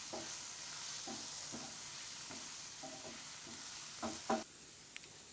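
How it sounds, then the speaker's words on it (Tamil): Soft scraping and tapping of a utensil stirring samba wheat pasta in a pan over a steady low sizzle, with a couple of louder clinks near the end. "சேர்த்துட்டு இப்போ நல்லா மிக்ஸ் பண்ணிக்கணும்"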